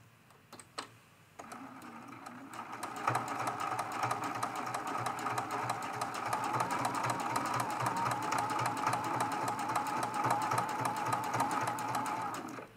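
A sewing machine stitches a quilted cathedral window ornament, starting with a few clicks and then settling into a steady, fast, close mechanical whir that runs evenly to the end.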